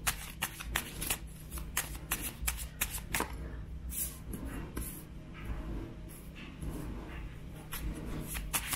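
Tarot cards being shuffled by hand, with rapid riffling and flicking bursts at an uneven rhythm that settle into a steadier shuffling patter, close and clear with no speech.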